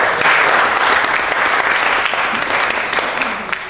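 An audience in the London Borough of Waltham Forest gives a full, loud round of applause, dense and sustained from start to finish, thinning slightly toward the end.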